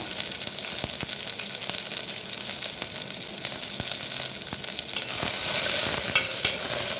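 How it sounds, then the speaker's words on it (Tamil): Thinly sliced large onions fry in a pan for tomato rice, giving a steady crackling sizzle with frequent spoon-stirring scrapes that grow slightly louder toward the end. "பெரிய வெங்காயத்தை நீர் வாக்கில் கட் பண்ணி எடுத்து வச்சுருக்கேன் அதை சேர்த்துக்கலாம் சேர்த்துட்டு நல்லா வதக்கி எடுத்துக்கோங்க"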